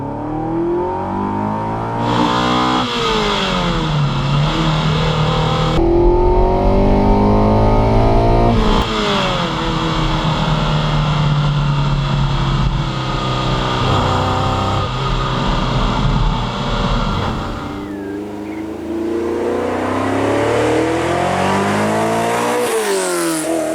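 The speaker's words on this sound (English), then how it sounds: "engine just behind your ears, just, oh, it sounds so angry" A Ferrari Dino 246 GTS fitted with a 328 flat-plane V8 screams through repeated gear changes, rising in pitch then dropping, loud and close with a harsh, aggressive tone.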